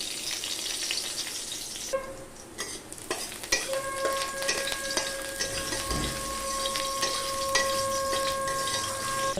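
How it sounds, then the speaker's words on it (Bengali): Crushed garlic and a dried red chili sizzle steadily in hot oil, with a stirring scrape and a few clinks of a utensil against the pan; no one speaks. "আমি এখন ফোড়ন দিয়ে দিচ্ছি ফোড়নে দিয়ে দিচ্ছি হচ্ছে রসুন থেতো করা আর হচ্ছে একটা শুকনো লঙ্কা"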